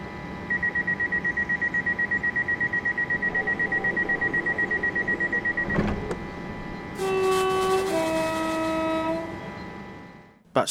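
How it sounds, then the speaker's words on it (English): A two-tone train horn on a London Overground Goblin Line train in Train Sim World 4 sounds in loud sustained blasts, the pitch shifting between two notes, following a steady rapid electronic beeping. "the horn doesn't sound awful either. It's a two-tone horn that reminds me of the Class 700 or Class 395 Javelin"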